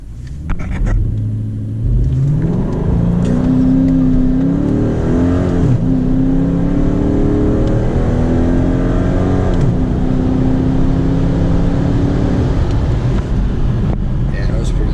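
A 5.7 Hemi V8 with a muffler delete, 93 tune and cold air intake roars loud and close through a hard eighth-mile pull, its revs climbing steadily through each gear change.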